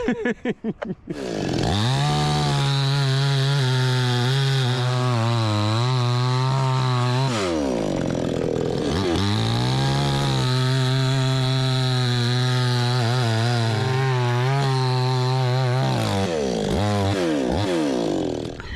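A budget $159.99 chainsaw running close by while bucking firewood, its engine droning steadily and rising and falling in pitch as it cuts, with a short idle gap partway through.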